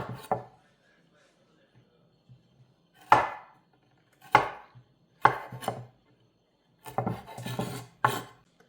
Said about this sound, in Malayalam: ഇഞ്ചി ഇങ്ങനെ ഇതിൻ്റെ സൈഡൊന്ന് കട്ട് ചെയ്തിട്ട് തൊലിയൊന്ന് കളഞ്ഞിട്ട് ഇട്ട് കൊടുക്കാം